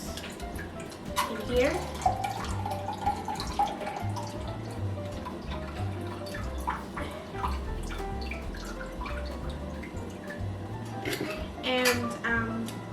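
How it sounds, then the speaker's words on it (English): Pear juice is poured into a pot for a Christmas cocktail, a trickling, dripping liquid stream under close kitchen clatter and a person talking throughout. "I'm just gonna pour the pear juice"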